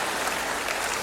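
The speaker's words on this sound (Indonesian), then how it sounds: "Berikan tepuk tangan gitu." Brief, steady applause from a church congregation during a Christian sermon, a dense wash of clapping with no voices over it.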